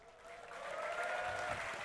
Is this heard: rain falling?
no